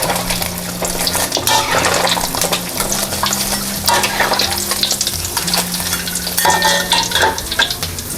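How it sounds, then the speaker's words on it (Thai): Steady, crackling sizzle of tofu frying in hot oil, with occasional stirring and a low tonal hum underneath; no voices. "หลังจากเราทอดจนเหลืองแล้วนะ ให้เราตักขึ้นเลยค่"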